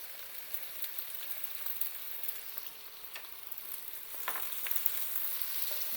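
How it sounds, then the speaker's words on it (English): Onions and two green cardamom pods fry in hot oil, a steady soft sizzle with scattered crackles and pops, close by and fairly quiet, no voices. "let this onion fry for 2 minutes"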